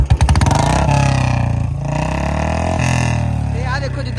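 A Royal Enfield Bullet BS4 motorcycle engine revs loud and close, a thumping, rising roar with a clattery edge that holds steady for several seconds before easing.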